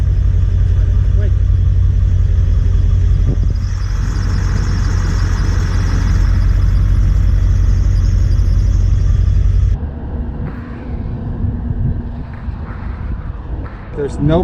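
A pickup truck with no power steering fluid idles with a loud, deep, steady rumble under a voice, then the engine noise drops away partway through, leaving quieter handling sounds and voices.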